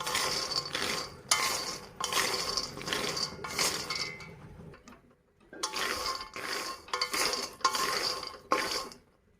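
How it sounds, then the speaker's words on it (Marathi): Peanuts being dry-roasted and stirred in a kadhai on a gas stove for laddoos, with repeated scraping and rattling bursts from the spoon, broken by a short pause midway. "आता मी गॅसवर एक कडे ठेवली मी त्यात हे शेंगाचं बी टाकते शेंगाचं बी चांगलं लाल भाजायचं"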